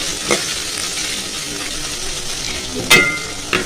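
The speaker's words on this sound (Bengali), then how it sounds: "তেলটা গরম হওয়ার পর আমি এখানে দুটো পেঁয়াজ কুচি দিয়ে দিয়েছি" Chopped onions frying in hot leftover oil for chicken biryani, a steady close sizzle with a couple of brief clinks of a utensil against the pan.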